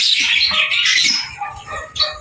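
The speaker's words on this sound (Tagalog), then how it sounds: "Ayan o, matapang mga kaibon." Birds squawk loudly close by in a coop as they are driven out, their harsh, overlapping calls running almost continuously.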